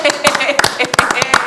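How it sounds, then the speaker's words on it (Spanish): A short burst of clapping at a Chilean political talk show, with a few loud, distinct hand claps close by in an uneven rhythm, mixed in with talking voices. "vamos a darle un aplauso"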